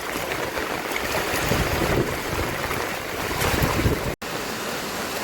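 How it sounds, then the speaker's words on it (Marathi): Heavy, continuous monsoon rain pouring down over a flooded housing society area, a dense, steady roar that fills the whole scene, broken only by a momentary dropout near the end. "आणि अजूनही तेवढाच पाऊस पडतोय कंटिन्यू"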